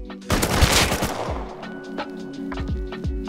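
Gunfire in the survival video game Rust: a fast burst of loud shots crackles at the start, then scattered single shots follow at intervals, close and sharp, with no clear talking.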